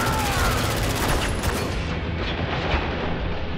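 Heavy gunfire from the co-op shooter Spec Ops The Line, a dense, loud, continuous barrage of overlapping shots and blasts throughout.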